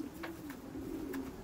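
A racing pigeon in a loft, sitting on eggs, gives a low, soft cooing that rolls on continuously and close, with faint rustling beneath.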